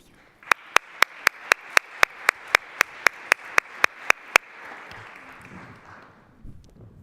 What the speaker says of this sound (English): a big round of applause for all participants